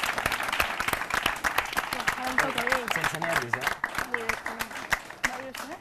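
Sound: studio audience applauding an eliminated contestant

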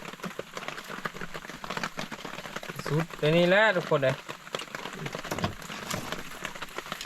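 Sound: heavy rain falling in the forest

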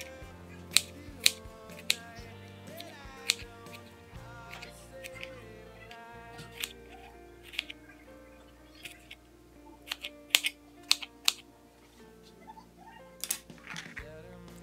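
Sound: cutting strawberries into tiny pieces

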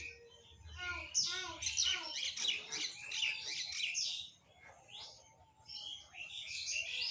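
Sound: racing pigeons calling

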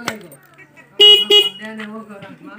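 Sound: motorcycle horn honking

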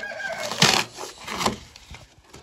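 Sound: live Muscovy ducks in transport box

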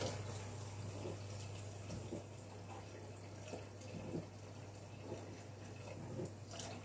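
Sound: water poured into a Thermomix mixing bowl

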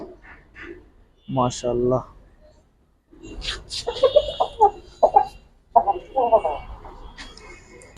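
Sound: red rooster clucking

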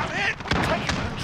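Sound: gunshots in video game Call of Duty: Modern Warfare

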